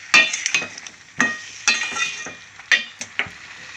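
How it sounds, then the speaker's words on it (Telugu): Metal spoon stirring a tempering of turmeric, chili powder and salt in a pan, sharp scraping clinks in irregular bursts over a faint sizzle, close and alone without talk. "అలాగే ఇదంతా కలిపిస్తాను, పోపు అంతా కలిపిస్తాను"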